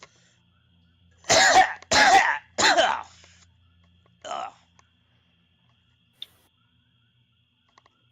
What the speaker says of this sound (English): Sounds like a bad cough.